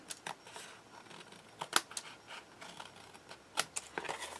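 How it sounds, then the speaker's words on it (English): Scissors cutting across scrap paper for a craft album, a few quiet close snips and paper rustles spaced over a few seconds with no talking. "our last horizontal piece, we're just going to cut across there."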